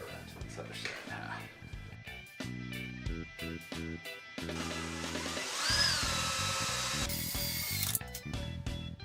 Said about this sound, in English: maybe we'll just match drill these holes and then get around to this other side